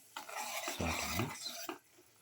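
Ground beetroot mixed with chili powder, salt and water is stirred and sautéed in a pan, a brief scraping, stirring sizzle lasting a couple of seconds with no talking.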